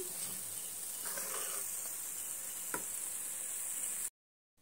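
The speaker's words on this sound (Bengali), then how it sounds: "এবার আমি তেল থেকে বিস্কুটগুলো তুলে নিচ্ছি" Semolina and ghee biscuits lifted from hot frying oil give a faint, steady sizzle with a couple of soft scraping touches, then the sound cuts to silence near the end.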